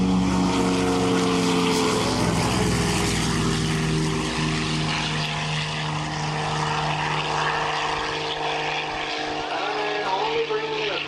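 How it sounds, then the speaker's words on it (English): Several propeller aircraft make a formation takeoff at an air show on a former RAF satellite airfield at Elvington, Yorkshire, their engines holding a loud, steady drone throughout with a voice briefly audible beneath. "Here we go. Formation takeoff."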